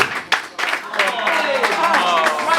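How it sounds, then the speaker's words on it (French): Audience applause at an open-mic slam poetry evening, a burst of clapping that swells and continues while a voice talks over it. "Allez, applaudissons pour nos ex."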